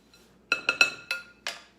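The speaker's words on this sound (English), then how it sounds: "So I just mix up the dry ingredients." Dry granola ingredients mixed in a glass bowl, five sharp clinks of a utensil against the bowl in an irregular quick run, close and clear over near silence.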